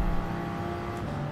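Race car engines roar flat out in a Gran Turismo drag race to the finish line, a loud, sustained high-revving drone with a slight whir, no voices over it.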